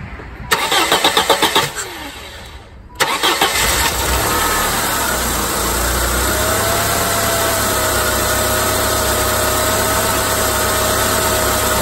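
A 1999 Saturn SC1 with a SOHC engine and a lean running problem, cranked in two bursts before it catches and settles into a steady, loud, close idle with a faint whine running through it.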